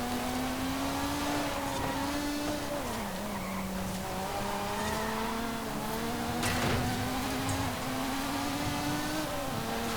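A Lotus Emira races in Forza Horizon 5 with a sustained loud engine note that rises and dips with throttle, tires squealing through corners, continuous and alone without talk.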